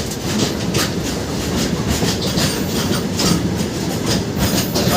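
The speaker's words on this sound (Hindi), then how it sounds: "हमारे सामने से अभी जा रही है गुड्स ट्रेन।" A goods train rolls past close by, a loud steady roar of wheels on rails with rhythmic clickety-clack from the wagons, filling the whole stretch with no talking.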